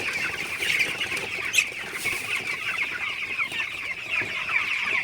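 Many broiler chickens cluck and murmur together in a continuous, busy chorus, like a crowded flock close by, with no talking.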